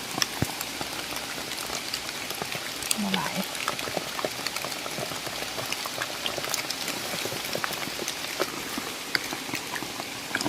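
Heavy rain pours steadily onto surfaces in a rural mushroom-picking spot, a dense, even hiss of drops with scattered louder splats throughout, while a voice talks faintly underneath.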